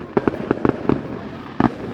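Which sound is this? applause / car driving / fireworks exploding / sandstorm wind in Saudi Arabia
fireworks exploding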